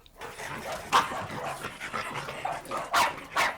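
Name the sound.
dogs barking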